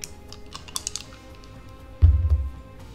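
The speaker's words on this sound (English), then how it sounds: "We'll be rolling a dice." A die rolled for a tabletop tactics game: a few light clicking taps followed by a short, louder clattering tumble that rattles to a stop on a hard surface nearby.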